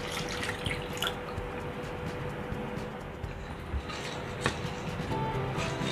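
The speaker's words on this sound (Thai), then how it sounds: "พอน้ำตาลเริ่มละลายดีนะคะเราก็ใส่กะทิที่เหลือทั้งหมดค่ะ ตามด้วยน้ำใบเตยค่ะ" Coconut milk and pandan leaf water being poured into a pot of dissolving sugar, a steady liquid splash and trickle with small drips, close over a low background hum.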